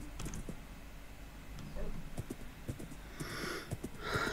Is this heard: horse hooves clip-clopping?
yes